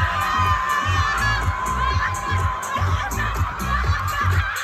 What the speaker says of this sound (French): applaudissements s'il vous plaît pour le duo